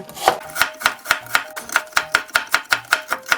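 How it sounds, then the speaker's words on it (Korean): Knife julienning radish on a cutting board for a cucumber water kimchi, a steady run of about fourteen crisp, evenly spaced chops, close and clear with no talk. "무도 채를 썰어줍니다."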